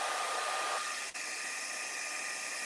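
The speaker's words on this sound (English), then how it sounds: "Now we're going to take our blow dryer," A blow dryer runs steadily and loud while drying a freshly painted section, with a steady broadband whoosh that briefly dips for an instant midway.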